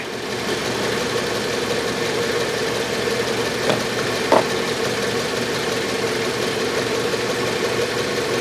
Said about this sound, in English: You can't stop this engine from running or it'll all come right out.